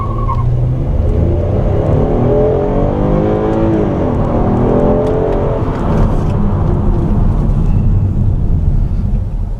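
Engine of a 2014 car, Hyundai Azera, Kia Cadenza or Acura RLX, pulls hard past about 3,000 RPM. It makes a loud, steady, rising drone heard alone from inside the cabin, with no talking.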